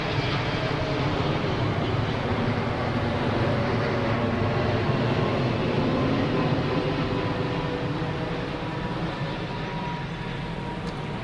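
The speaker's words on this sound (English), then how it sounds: "This plane's a little bit loud." An airplane flying overhead makes a loud, continuous broadband roar that holds steady throughout and fades slightly near the end, with no talking.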